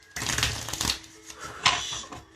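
A deck of cards being shuffled up close, with two quick riffling bursts of crisp flapping and clicking.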